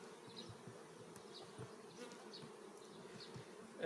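Honeybees buzz steadily throughout a hive inspection, a dense, continuous hum close by with slight swells, and no voices.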